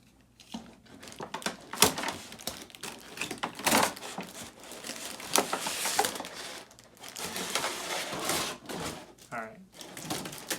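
Batman Year Two action figure from McFarlane Toys being cut out of its cardboard and plastic packaging, with repeated irregular snipping, crinkling and tapping noises close by, mixed with brief voice sounds.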